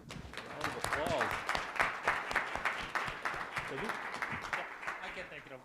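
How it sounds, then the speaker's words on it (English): Audience applause for a forest operations panel at a conference, a steady wash of clapping lasting several seconds, with voices talking over it throughout. "give them all a round of applause"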